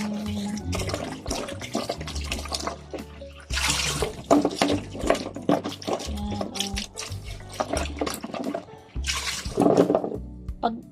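Vegetables, including eggplant, being washed under a running kitchen tap, with steady splashing water throughout and someone talking over it.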